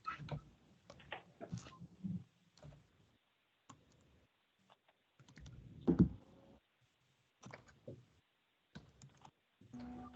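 Scattered computer keyboard typing and clicks during an online meeting, sparse irregular bursts of keystrokes with pauses between, faint and close, no one speaking.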